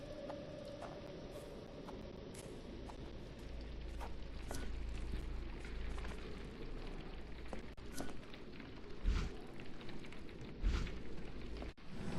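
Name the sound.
rain in video game Sherlock Holmes: The Awakened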